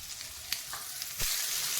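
Thick-cut onions dropped into hot oil in a pan for chana masala, a close hiss with a few light spatula taps, swelling into a louder steady sizzle for the last half second.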